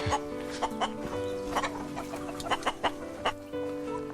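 Dozens of free-range native Korean chickens cluck and murmur up close, with rhythmic short clucks over a steady farmyard hum.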